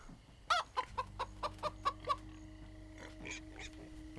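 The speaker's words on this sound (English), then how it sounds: "Chicken!" A chicken in the video game Minecraft: Story Mode clucks in a quick run of about seven short, close clucks, then softer scattered clucks follow over a faint steady hum.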